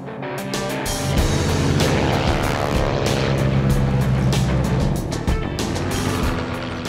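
Propeller planes drone at a busy airfield fly-in at Compton Abbas, England, a loud continuous engine hum swelling as aircraft pass close by.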